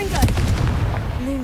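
Hogwarts Legacy Confringo spell explosions: a quick burst of booming blasts and crackling impacts, loud and close, layered over game effects and a brief whistling tone.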